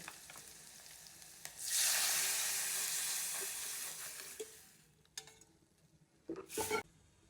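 Buttermilk poured into a hot pan of fried green chilli and garlic for Khandeshi kadhi, setting off a loud burst of sizzling that fades over a few seconds, followed by a couple of brief stirring and pan clatters.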